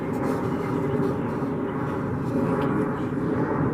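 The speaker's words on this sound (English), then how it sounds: "before this airplane drowns me out" Airplane passing overhead behind an apartment building, a steady broad roar that stays loud and constant throughout and sits under light talk.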